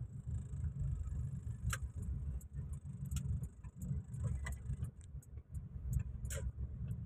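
Rush hour road traffic, a continuous low rumble of passing vehicles with scattered light clicks and ticks on top, moderately near and steady throughout, with no talking.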